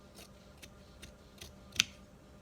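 Scissors snipping through fabric while cutting out a sewn face mask, a few quiet, evenly spaced snips followed by one sharper, louder cut, close by with no talking.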